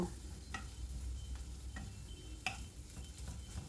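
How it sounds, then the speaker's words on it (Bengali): Chopped onion fries in oil in a wok, a quiet steady sizzle broken by a few soft scraping clicks of stirring. "একটা বড় সাইজের পেঁয়াজ আমি কুচি করে নিয়েছিলাম সেটা একটু হালকা করে ভেজে নেব"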